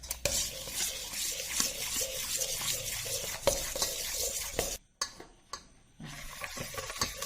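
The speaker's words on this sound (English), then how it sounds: "You have to beat the jaggery till there are no lumps in it" Jaggery being beaten into curd with a utensil in a bowl for a wheat flour and dry fruit Christmas cake: steady scraping and stirring, with occasional knocks against the bowl, a brief pause near the end and then more stirring.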